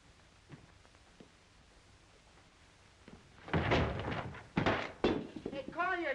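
A thrown discus lands with a heavy thud, followed by several loud clattering thumps as it bounces and rolls, after a quiet stretch with faint taps; a voice comes in at the end.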